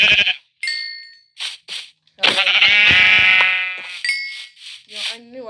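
Sheep bleat at close range in a long wavering cry, with shorter bleats and a few sharp ding-like tones around it, plus scattered talk.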